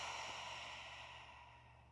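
A gentle, soft exhale at the close of a slow vinyasa yoga practice, a single quiet breath fading away over a steady faint background hum.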